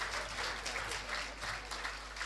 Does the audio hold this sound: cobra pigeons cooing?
no